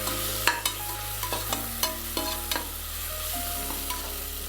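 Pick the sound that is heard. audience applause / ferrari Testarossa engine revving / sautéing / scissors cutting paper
sautéing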